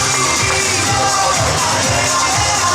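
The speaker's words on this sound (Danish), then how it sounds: "Kære publikum, skal vi lige give Viby IF en kæmpe hånd." A medal ceremony audience at a U14 Danish championship final gives Viby IF a big hand: dense, steady crowd noise with clapping and scattered cheers that fills the whole moment without a break.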